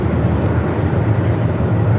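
Airbus A330 jet engines at Melbourne Airport in strong wind, a steady, loud broadband roar with a low rumble that holds without break.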